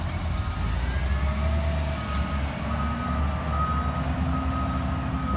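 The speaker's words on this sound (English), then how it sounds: "The dump truck is on its way to move the sand." A dump truck working on a beach idles and rumbles steadily while its reversing alarm beeps in a regular high-pitched pattern throughout, moderately close.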